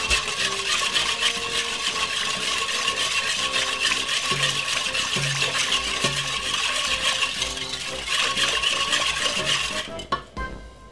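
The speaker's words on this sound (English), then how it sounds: "Use a whisk and give it a whisk to dissolve the sugar." Brown sugar being whisked in a bowl to dissolve it, a continuous fast metallic stirring and clinking that stays steady and close, then stops abruptly near the end, with no voice heard.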